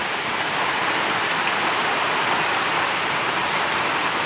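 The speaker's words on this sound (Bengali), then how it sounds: "বাতাসও হচ্ছে বৃষ্টির পাশাপাশি, ছোটোখাটো ঝড় চলছে।" Heavy, dense rain driven by wind in a small afternoon storm in a rural courtyard with mango trees, a loud, continuous roar with no voices.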